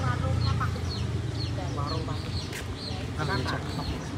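Three farm ducks quacking and clucking in short bursts around a rural home, with people chatting in the background.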